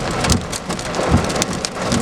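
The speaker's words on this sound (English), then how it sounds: "it's very, yes, definitely hailing." Dense hail and heavy rain pound surfaces during a severe thunderstorm in Auburn, Massachusetts, a loud continuous hiss and clatter with periodic heavier thumps of hailstones, close by and with no talking.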